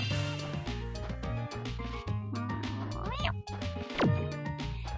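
A person imitates a cat's cute meow in a series of drawn-out, pitch-sliding vocal mews, heard over busy game background music and effects.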